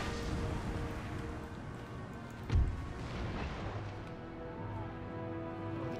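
A single deep howitzer boom thuds once amid a dense, continuous battlefield rumble of distant cannon and musket noise in Empire Total War.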